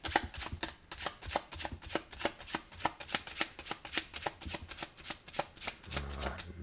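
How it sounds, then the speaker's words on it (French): A deck of playing cards riffled and shuffled during a magic trick, a rapid run of crisp flicking snaps at a steady rhythm, close but soft, ending with a brief low thump. "Et mélanger ce paquet au-dessus afin de perdre votre carte dans le jeu."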